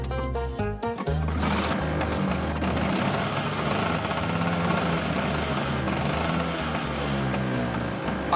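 Scooter engine running, a loud close buzzing drone with a rapid knocking pulse that settles into a steady idle-like rattle after a brief sharper start.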